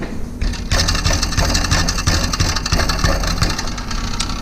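A 1999 Pontiac Grand Prix GTP with a broken-apart stock torque converter: a loud, steady mechanical rattle over a running engine idle, continuous and close, with a dense metallic buzzing texture throughout.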